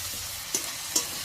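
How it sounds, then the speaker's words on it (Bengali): Ginger and garlic paste frying in oil for chicken kofta korma: a soft, steady sizzle with two brief stirring scrapes in the pan. "এইবার আমি আদাটা রসুনটা একটু ভেজে নেব, যাতে কাঁচা গন্ধটা চলে যায়"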